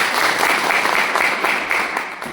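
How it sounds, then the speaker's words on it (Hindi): An audience at a direct-selling business talk breaks into loud, sustained applause that fills the whole stretch without any talk over it. "इनके लिए एक जोरदार ताली हो।"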